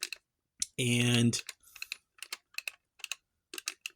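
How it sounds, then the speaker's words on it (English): Keys clatter in quick irregular bursts on a computer keyboard while working in the Epyx Toolkit BASIC sprite editor, with a brief spoken word and a sustained tone in between. "We're going to just select number 3 on the keyboard."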